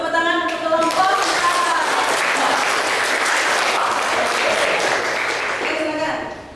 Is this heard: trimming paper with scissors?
no